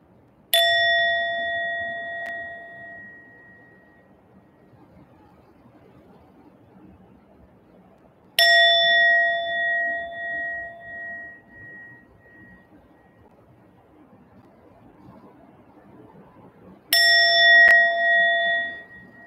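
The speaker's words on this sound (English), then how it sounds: "they'll slowly start to ring the bell 3 times" A bell rung three times, evenly spaced, each clear metallic ding ringing out and slowly fading before the next strike, with no voices.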